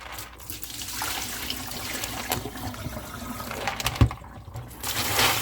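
Cockles being rinsed under running tap water, a steady close splashing and trickling with occasional knocks of shells against each other or the bowl, no voices.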